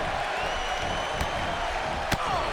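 Arena crowd noise in the WWE 2K18 wrestling video game, a boisterous Des Moines crowd: a constant dense roar of cheering throughout, with a couple of sharp slams or impacts cutting through near the middle and end.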